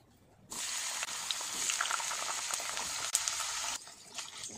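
Strips of eggplant fry in hot oil over a medium flame, a fairly quiet, steady hissing sizzle that starts abruptly, runs for a few seconds and then drops away.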